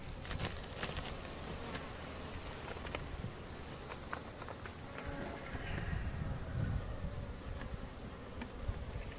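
Honeybees from a weak colony with no brood, being wintered without compression, hum in a steady, dense buzz that fills the whole stretch, with individual insects passing close now and then.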